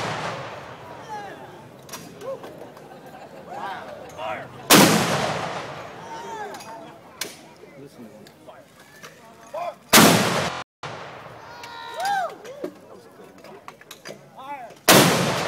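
A howitzer fires a 21-gun salute, heard as several loud, sharp booms spaced seconds apart with rumbling decay, while people talk between the shots.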